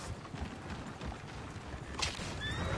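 A horse whinnies amid a busy Red Dead Redemption 2 game soundscape, with trotting hooves and steady background noise.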